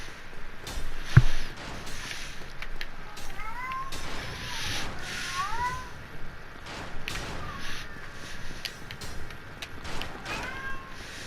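A house cat mews on and off in the background, faint to moderate, with small groups of short cries between brief sharp clicks and a steady low hiss.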